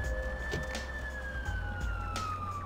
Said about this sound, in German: Also die Sirene im Hintergrund.